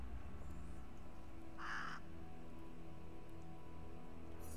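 A bird in the video game Strife gives a single harsh caw, loud and close, against a steady low ambient rumble, with no talking.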